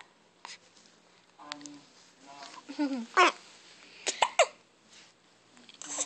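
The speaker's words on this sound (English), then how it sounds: "When are you getting rid of them hiccups?" A three-week-old baby hiccups several times in short, sharp bursts scattered through a quiet room, mixed with small babbling sounds and soft breaths.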